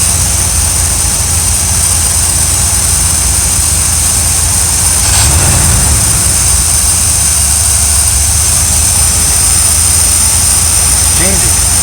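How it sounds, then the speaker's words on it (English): A steady, loud RV engine drone runs throughout with a constant high whine, a fast idle that never changes pitch. "Look how fast it's idling."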